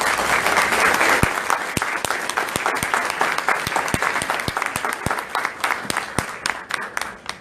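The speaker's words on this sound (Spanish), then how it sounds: "Fuertes aplausos, por favor." Loud applause from a book presentation audience at the Lima book fair, with a dense wash of clapping and distinct sharp individual claps standing out, gradually thinning over several seconds.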